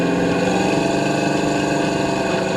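A 1970 Chevrolet C10 pickup with a lowering kit rumbles steadily, its engine and exhaust droning loud and close in a continuous low idle-like tone with no breaks.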